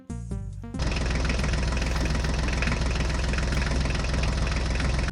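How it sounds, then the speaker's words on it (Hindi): A toy John Deere tractor reverses, starting with a few short stepped tones. Then comes a loud, continuous buzzing engine drone with a rapid mechanical knock, steady and close until the end. "चलो ड्राइवर, ट्रैक्टर गाड़ी को बैक करके आगे लेकर चलो।"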